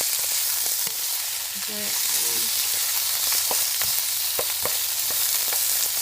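Garlic frying in a pan, a dense, loud and continuous sizzle with frequent sharp pops and light utensil taps, and a brief murmur of a voice partway through.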